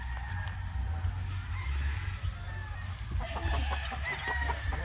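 Several breeding chickens cluck continuously at close range over a steady low rumble, with busier, sharper clucking toward the end.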